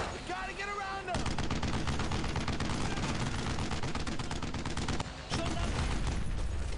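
Sustained gunfire in the World War II shooter Brothers in Arms: Road to Hill 30, with loud, dense bursts of rifle and machine-gun shots filling the scene continuously, overlapping and nearly unbroken apart from a brief lull near the end.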